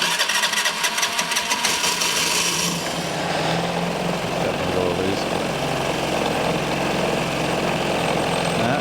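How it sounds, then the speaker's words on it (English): A Vespa GT200 scooter, freshly fitted with new fuel lines, fuel tap, pump and intake manifold, cranks with a rapid starter chatter, then catches and settles into a steady, close idle. "So go ahead and start the scooter."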